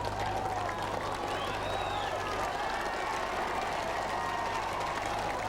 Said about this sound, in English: Cheered on by the crowd though